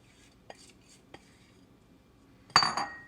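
Wet and dry homemade nutty date granola ingredients being combined in a bowl: a couple of soft taps, then a sudden loud clattering scrape of utensil against the bowl near the end, close and brief.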